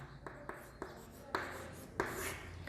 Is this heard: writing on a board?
yes